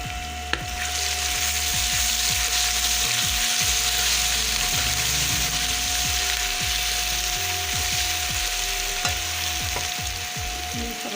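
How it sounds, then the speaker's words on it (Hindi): Garlic ginger paste sizzles with onions in a hot pan, a steady close frying hiss broken by repeated scraping clicks from stirring. "अब मैं ये लहसुन अदरक का पेस्ट डाल रही हूँ।"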